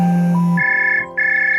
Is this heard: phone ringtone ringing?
yes